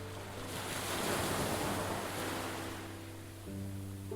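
Ocean waves wash onto a sandy beach, a broad steady surge of surf that swells and recedes over a few seconds, with some wind rumble and no voices.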